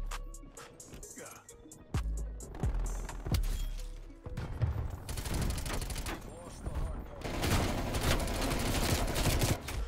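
Groza rifle gunfire in the Call of Duty: Cold War video game, sharp shots and bursts punctuating a dense, busy game mix that grows louder and thicker toward the end.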